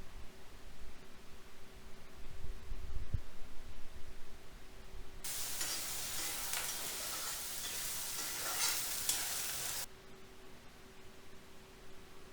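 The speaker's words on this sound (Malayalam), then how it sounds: "ഇനിയിപ്പോൾ ഇതാ ചട്ടിയിൽ വെളിച്ചെണ്ണ വാർന്നിട്ടുണ്ട്. അതിലിതാ നമ്മൾ വലിയ ഉള്ളിയും പച്ചമുളകും കൂടി ഉണ്ട്," Onions and green chillies sautéing in coconut oil in a pan for a fish curry: after a quiet start, a loud broad hiss of sizzling swells for about five seconds, then drops back to a low background.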